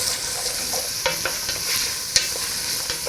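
Celery being stirred into a pot of softened onion over medium heat for chicken and rice soup, with a steady sizzle under scraping spoon strokes and a few sharper clacks against the pot, close and moderately loud.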